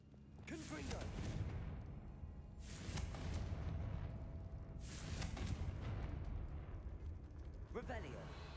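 Fiery Confringo spell blasts in Hogwarts Legacy, a series of loud bursting booms at regular intervals over a steady rumble of game combat, with brief voice shouts in between.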